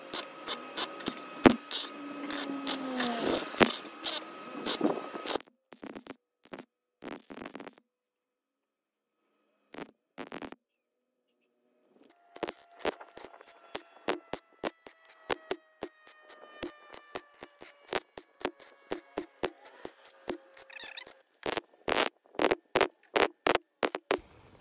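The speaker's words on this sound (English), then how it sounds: "after a handful more welds and a bunch of irritating noises" MIG tack welds fuse repair patches into a 1964 VW Beetle's body in close, crackling bursts, first a few longer runs and then many short, rhythmic pulses separated by brief silences.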